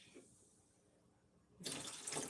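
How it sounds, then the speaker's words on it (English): Water poured out of a small cup, a brief splashing burst near the end after a quiet, faintly hissing lead-in, close and fairly soft. "I'll pour a little of that water out"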